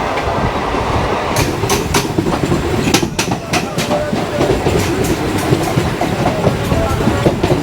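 A Kolkata local train on the Sealdah to Ranaghat line rolls along the rails, its loud continuous rumble broken by a rapid run of sharp clicks and clacks over rail joints.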